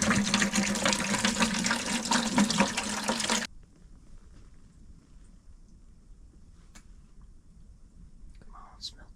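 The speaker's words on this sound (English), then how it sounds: "I'm filling up the minnow bucket right now" Water pours into a minnow bucket on an ice fishing trip in Door County, a loud steady rush for about three seconds before it stops, leaving quiet background with faint scattered sounds.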